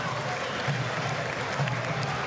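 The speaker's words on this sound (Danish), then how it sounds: "Tøvende klap til alvor fra Kai Falk" Applause from a football crowd at a Danish league match, Vejle Boldklub against Lyngby, comes as a brief patter of clapping within a steady crowd murmur.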